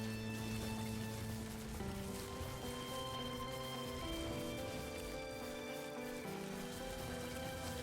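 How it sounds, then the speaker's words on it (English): Steady acid rain patters across the ground in the video game Death Stranding, a constant close hiss of drops that runs unbroken throughout with gentle layered musical tones beneath. "the fucking acid rain"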